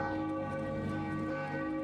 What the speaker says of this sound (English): the ringing bells are part of the Ancestors' Day thing